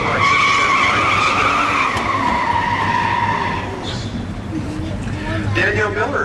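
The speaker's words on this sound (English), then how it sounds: "72 Buick over there on the far side of the racetrack" A 1972 Buick muscle car at a factory stock drag race, its engine roaring at full throttle with rising, sweeping revs and tire noise, loud and sustained, with an announcer talking over it.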